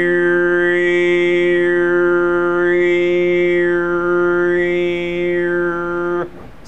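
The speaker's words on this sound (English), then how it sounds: "you'll start to hear some sort of whistle noise or an overtone or some more ringing that feels like it's almost above the pitch" A single voice holds one steady sung pitch while overtone singing makes a whistle-like ringing tone sweep slowly up and down above it three times, loud and close, before cutting off abruptly.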